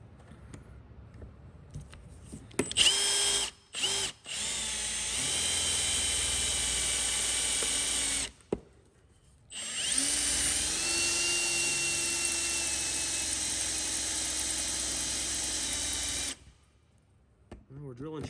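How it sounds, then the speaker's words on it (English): Drill cutting out rivets on the door mirror of a 389 Peterbilt truck, loud whining bursts with brief pauses, then a long sustained drilling run close by, with someone talking faintly at the start and end. "So I'm going to drill out this rivets up here and see if I'm getting this mirror off."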